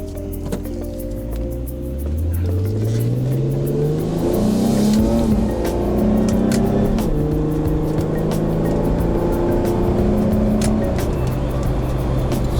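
An Infiniti G35 coupe engine with a manual transmission growls as it accelerates in first gear, the pitch climbing steadily and loudly inside the cabin, then holding at higher revs.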